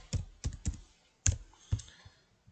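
About half a dozen separate keystrokes tap on a computer keyboard while a district name is typed, the clicks irregularly spaced with quiet gaps between them.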